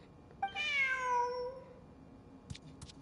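A single drawn-out cat meow rises and fades in Genshin Impact, clear and fairly close, followed by a couple of faint clicks in an otherwise quiet space.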